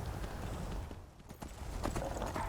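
A horse's hooves clip-clop at a steady canter in the video game Skyrim, a continuous rhythmic thudding that stays close and moderately loud throughout, with no voices.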